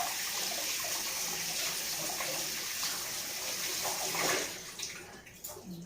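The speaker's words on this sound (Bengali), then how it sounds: "ডিম দুটো সুন্দর করে ধুয়ে নিলাম, সুন্দর করে ধুয়ে নিয়েছি।" Two eggs washed under a running kitchen tap, with a steady close stream of water splashing continuously before easing and turning more uneven toward the end.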